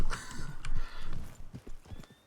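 Hooves of a horse in a Wild West role-play video game clip-clop close and loud in an uneven run of strikes, with no speech over them.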